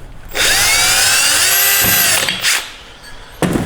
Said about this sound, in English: We're going to drill a small hole through here.